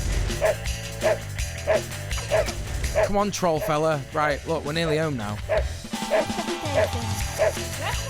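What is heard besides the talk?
dog barking and whimpering in a video game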